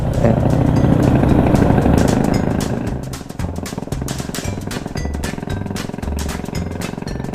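A Honda Wave110i motorcycle engine with a fault runs loudly, throbbing heavily at first, then settling into a rapid, rhythmic mechanical rattling and clatter that continues throughout, close by and with no voices.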